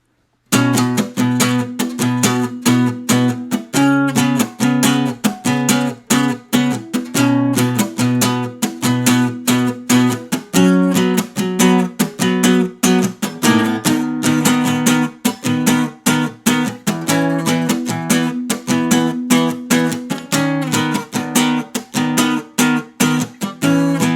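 An electric guitar plays an interlude in a steady run of rapid picked notes with a repeating low riff figure underneath, loud and continuous for over twenty seconds, with no voices.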